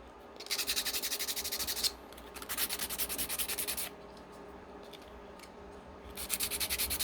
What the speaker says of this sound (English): I'll just go through the parts and just give them a quick sand